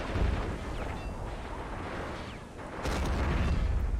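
Anti-tank gun firing on a tank in Men of War: Assault Squad, set in 1942 Stalingrad, heard within a dense roar of battle noise, with a louder burst of firing about three-quarters of the way through.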